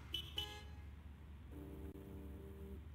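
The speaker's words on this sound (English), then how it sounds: "honk" Two short car horn toots, then a longer honk, heard over a low engine rumble; fairly faint and a little distant.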